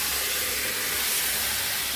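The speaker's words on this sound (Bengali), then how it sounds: "এবার মাংসটা দিয়ে দেবো তেলের মধ্যে" Meat goes into hot oil and sizzles loudly and steadily, a dense close hiss with no break and no voices over it.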